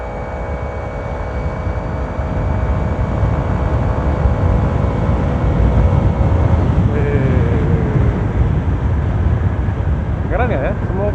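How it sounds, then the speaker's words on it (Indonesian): A Honda PCX scooter fitted with a turbo-style fan rides along, its engine drone and high whirring whine steady under wind buffeting, recorded from inside the rider's helmet, with a brief rising whine near the end. "Ini motor ini pelan, nggak bakalan lari kemana-mana. Suaranya aja heboh gitu kan, nging gitu."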